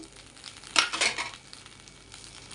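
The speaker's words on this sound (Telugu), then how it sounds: "ఒక అర నిమిషం పాటు వేయించి స్టవ్ ఆఫ్ చేసేద్దాం" Stuffed brinjal fries in a pan with coriander and curry leaves, a soft sizzle that swells into a brief louder burst of stirring and scraping, then settles back to a faint steady hiss, close by with no voices.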